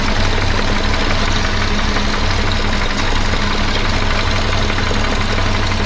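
A 1976 BMW 2002 engine runs at a steady idle, loud and close, with a constant rough mechanical drone and faint knocking.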